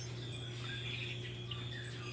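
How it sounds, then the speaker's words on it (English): Faint outdoor birdsong: a few soft chirps over a quiet, steady background hum during a short moment. "Can you hear the birds singing?"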